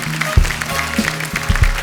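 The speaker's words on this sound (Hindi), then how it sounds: "एक बार जोरदार तालियां होनी चाहिए हमारे शूरवीरों के नाम" A studio audience on a TV comedy show claps and cheers in a steady, dense burst of applause, loud and continuous from start to finish.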